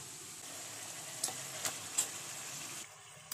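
Spices frying in hot oil in a pan while mutton is being cooked give a steady close sizzle, broken by a few brief louder crackles and pops, before the sizzle drops away near the end.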